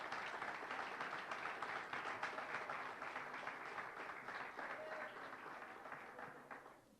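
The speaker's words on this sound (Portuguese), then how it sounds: "dê uma rica salva de palmas ao Rei Jesus" A church congregation applauds steadily during an evangelical service, a dense wash of clapping that holds for several seconds then gradually fades out.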